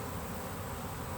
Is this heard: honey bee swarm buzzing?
yes